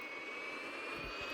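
A jet airliner's engines roar steadily during a takeoff run in Real Flight Simulator, a loud, even whine with a high tone on top and no voices.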